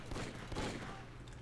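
Burst of gunfire in the blocky online shooter Brickforce, a short dense crackle of overlapping shots lasting barely over a second, fairly quiet in the game mix.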